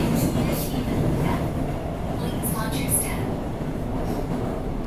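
Seoul Metropolitan Subway car on the GTX-A line, ridden from the last car: a steady, loud rumble of the running train with faint rail clicks, brief high squeals, and a voice talking over it.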